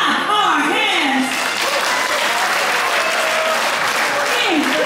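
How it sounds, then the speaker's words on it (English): Cruise ship audience clapping at a baby race event aboard the Disney Wonder, a loud, dense wash of applause with cheering voices and a host talking over it. "Everyone, let's clap our hands."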